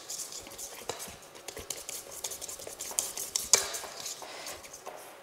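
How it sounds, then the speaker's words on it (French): Galette des rois filling being whisked by hand in a bowl, with quick, light, irregular tapping and scraping strokes, faint and close. "je le termine au fouet manuel, juste pour vraiment, comme je disais tout à l'heure, faire vraiment une pâte homogène"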